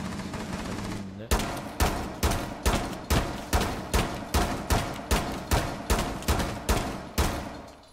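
Rapid bursts of video-game gunfire during a final bomb-defusal round, about a dozen sharp, evenly spaced shots after a short lead-in, loud and close with faint voices underneath.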